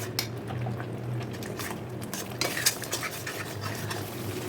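Spices such as cumin and garam masala worked into chicken for a roast, a continuous wet squishing and stirring with light scrapes of a utensil against a pot, close and steady.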